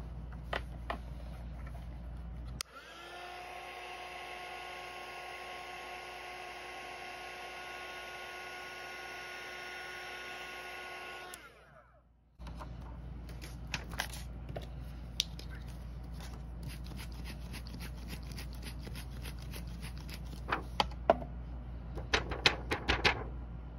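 A heat embossing tool melts embossing powder on a craft piece, giving a steady, close whirring hum with a tonal whine for about nine seconds before cutting off, followed by light scattered taps and clicks.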